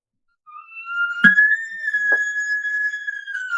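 Hunter imitating an elk location bugle with a call, a single high, clear whistling note that slides up and holds steady for about two and a half seconds, with a couple of short breathy clicks partway through.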